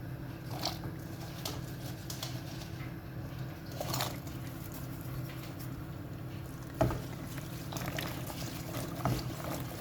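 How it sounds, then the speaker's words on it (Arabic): Water boils steadily in a pot on the stove with a continuous soft bubbling and hiss, plus occasional light clinks and pops, no talking. "هيك المي غليات"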